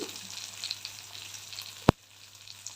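Thinly sliced onion frying in a pan for an okra masala curry, a steady soft sizzle throughout with one sharp clack near the end, close and quiet, no talk.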